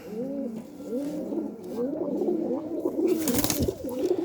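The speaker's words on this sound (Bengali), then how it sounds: "এই যে এই কবুতরটা অনেক দিনই হলো ধরা।" A captured pigeon coos in repeated rolling phrases close by, followed by a short burst of rustling or wing flutter near the end.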